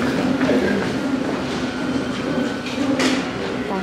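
Inside a Paris metro train carriage, a steady rumbling ride noise fills the space with faint clacking from the wheels and a brief sharp squeal or hiss near the end, with no voices.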